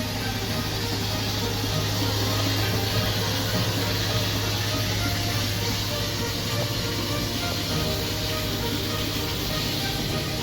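Steady rushing hiss of water refilling a mobile toilet tank, continuous and unchanging throughout, fairly close with a low hum beneath.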